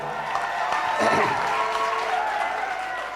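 Audience applause at a mushaira poetry gathering in Lucknow, a full crowd clapping steadily with some cheering mixed in, dense and sustained across the whole moment.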